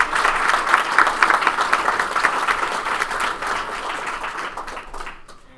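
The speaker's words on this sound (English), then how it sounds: "let's give Frank a round of applause" Audience applause at a hackathon project demo day, a steady burst of dense clapping from a room full of people that holds for several seconds and then fades out near the end.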